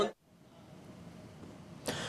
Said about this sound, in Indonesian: Saya batuk loh gara-gara itu.